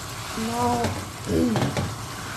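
Tender mutton being stirred in a kadhai sizzles softly under a low kitchen hum, with a couple of brief scraping strokes of a spoon against the pan.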